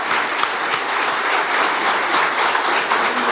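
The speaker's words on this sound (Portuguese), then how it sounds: "Pode dar uma salva de palmas" Steady applause from a church congregation during a Sunday Mass homily, dense and continuous clapping throughout without pauses, fairly loud and close.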